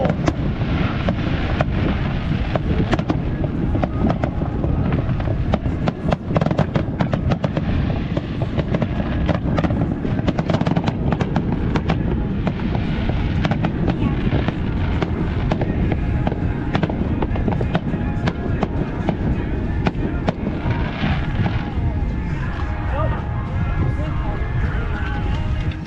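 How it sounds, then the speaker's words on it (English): Fireworks bursting over the water near Sombrero Reef in the Florida Keys on the Fourth of July, heard from a boat as a dense, continuous crackle and thumping of many explosions, with people talking and exclaiming throughout. "the sky slowly darkened and then was lit up again with fireworks"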